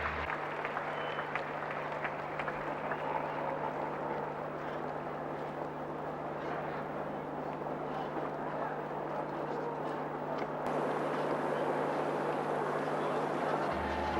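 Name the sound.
crowd roaring as Prince and Princess of Wales step ashore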